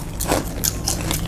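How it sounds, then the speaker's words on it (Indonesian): A single soft bite into a seasoned egg served with mie toktok noodles, a brief close crunchy-moist chomp followed by quiet chewing. "Makan telurnya."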